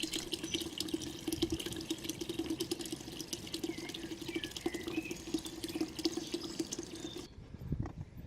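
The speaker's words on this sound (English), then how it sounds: "Here we find another structure from which water empties in the direction of the canal route." Water empties steadily from an old reservoir structure toward a former canal route, a continuous rushing, splashing flow heard outdoors at moderate distance, cutting off near the end.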